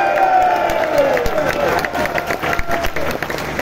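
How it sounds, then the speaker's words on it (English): Concert crowd applauding and cheering for a rock guitarist, a thick wash of clapping with scattered shouts that gradually thins out, heard with faint voices mixed in. "I don't ever understand why the guitar player always gets the biggest applause."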